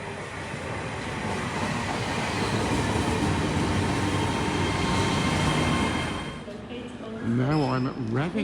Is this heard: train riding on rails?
yes